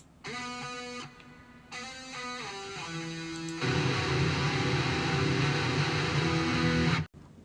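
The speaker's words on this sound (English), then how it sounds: "we have a lead guitar line which comes in the very final chorus of the song just to really boost the" A melodic lead guitar line rises over the final chorus of a heavy song, starting as clear sustained notes before the full distorted band joins to thicken the mix into a loud, dense finish that stops suddenly.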